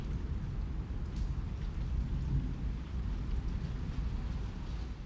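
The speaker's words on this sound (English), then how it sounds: "The rain drummed steadily against the window of Jack Sullivan's office, a rhythmic sound that matched the tension in the air" Steady rain with rumbling thunder forms a dense, continuous wash of low noise, rolling and unbroken throughout with no voices.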